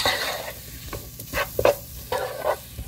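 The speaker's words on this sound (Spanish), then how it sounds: "vamos a agregar el plátano y la papa amarilla. Vamos a revolver muy bien." Plantain and yellow potato stirred into a pot of fish stew (sancocho de pescado): a spoon scraping and sloshing through the chunky mixture in a few distinct strokes over a soft background sizzle, up close with no voices.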